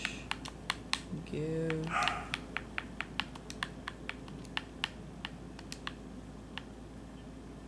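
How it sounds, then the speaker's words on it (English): Quick bursts of clicky keystrokes on a computer keyboard while a Minecraft chat command is typed, the taps close and fairly loud, spaced in short runs, with a brief spoken word partway through. "let's type in a command"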